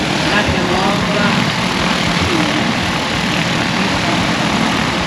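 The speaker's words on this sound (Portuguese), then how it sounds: "Esse é um drone da DJI, da Renova." DJI T20 agricultural spraying drone at an expo in Sertãozinho, its propellers giving a steady, loud broadband whir throughout, with people talking underneath.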